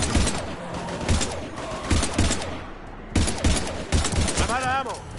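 Rapid gunfire in the video game Mass Effect 3, Legendary Edition on PS5, dense bursts of shots with thumps and a brief whining effect, mixed with shouting voices and game noise.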